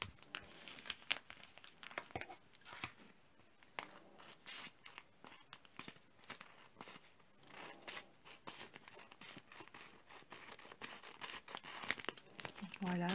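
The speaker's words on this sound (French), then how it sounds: "Donc là, je vais le couper au ciseau" Scissors cutting through a heat-fused plastic pouch, up close, giving a dense run of crinkling and snipping with irregular crackles throughout, under a faint background.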